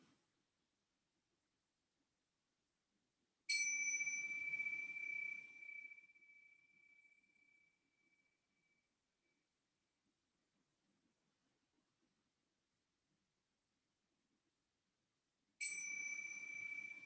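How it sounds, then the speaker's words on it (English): A bell struck to open a yoga class rings out twice, about twelve seconds apart. Each strike is a clear, bright tone that fades slowly into a quiet room. "I'm going to ring the bell to begin."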